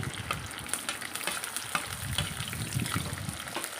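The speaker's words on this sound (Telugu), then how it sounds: "తాలింపంతా మంచిగా కలుపుతూ ఫ్రై చేయాలి" Chopped onion with cumin stir-fried in a hot tempering pan, a busy crackling sizzle broken by frequent scraping stirs and small pops, close and moderately loud.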